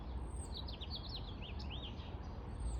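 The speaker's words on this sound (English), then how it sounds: "I think the other ones are sparrows." Sparrows in a spring garden give quick, bright chirps and twittering phrases, moderately faint over a steady outdoor background hiss.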